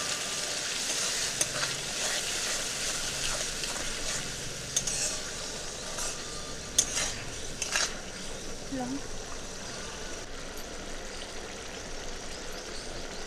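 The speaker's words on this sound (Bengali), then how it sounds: "মশলাটা ভালো করে কষে নিচ্ছি।" Masala with Kashmiri chilli powder fries and is stirred in a pan for a spicy dhaba-style egg curry, giving a constant close sizzle with intermittent scraping strokes from stirring.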